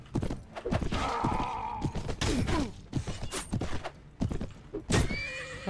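Horses in the Mount & Blade Warband video game whinny and neigh amid clattering hooves and sharp battle clashes, a busy, layered mix of repeated bursts with no clear speech.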